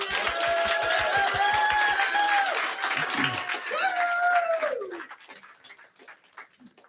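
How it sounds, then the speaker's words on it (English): Applause for graduates fills a graduation ceremony, steady and fairly loud for about five seconds under overlapping speech before fading to a quieter room. "Once again, round of applause to all of our graduates."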